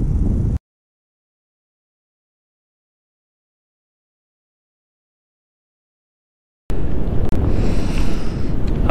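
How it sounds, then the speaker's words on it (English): Heavy wind buffets the microphone in a loud, low roar at the start and again after a long stretch of dead silence, outdoors by a river. "it's really windy right now"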